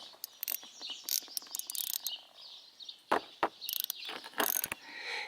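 A 10 mm gear wrench ratchets on a bolt while working on a 2011 Ford Mustang GT, giving bursts of sharp, close clicking with short pauses between strokes. No one speaks.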